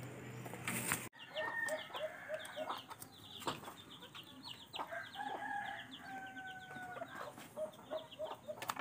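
Chickens and a small Rhode Island Red rooster on a poultry farm, with repeated clucks and bursts of wing flapping close by, plus a short crow-like call, all without talk.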